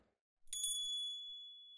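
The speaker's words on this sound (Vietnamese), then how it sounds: "Lại thêm một hồi chuông sau lưng vang vọng lên." A bicycle bell rings once behind a walker on a road, a bright metallic strike that leaves a long, clear ringing tone slowly fading, heard alone and fairly near.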